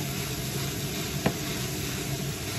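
Ground pork frying in a pan with softened onions, a steady close broadband sizzle with a brief scrape of stirring midway, no voices.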